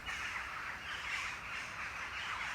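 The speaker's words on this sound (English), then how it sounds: "There's a bird." A crow caws somewhere on a leafy university campus, its hoarse call steady and moderately distant, blended into a continuous outdoor wash of ambient noise with no voices.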